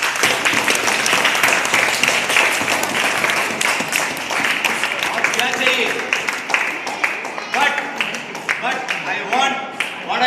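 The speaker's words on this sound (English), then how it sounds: "Give a good round of applause." Round of applause for club members heading to the KVS Nationals, sustained dense clapping throughout with talk and cheering mixed in.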